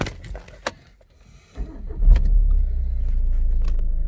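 A Seat Leon FR with a six-speed gearbox has its engine started: a brief crank and catch, then a steady, smooth idle hums on close by with no talk.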